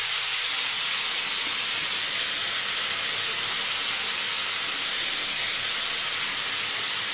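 Jackfruit pieces sauté in a pan for mutton curry, giving a loud, even sizzling hiss that holds steady throughout with no voices.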